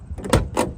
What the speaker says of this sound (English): Let's go ahead and open the door.